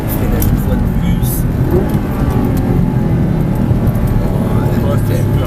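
Audi R8 V8 on a race circuit, its engine droning loud and steady as it brakes and runs on, with a voice talking over the continuous mechanical roar throughout.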